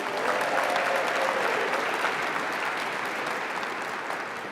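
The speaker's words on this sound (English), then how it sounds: "How about a big round of applause for Zippy Duval, everybody?" A convention audience at a farm bureau closing session breaks into sustained applause, broad and full at first, then easing slightly as the clapping continues for several seconds without speech.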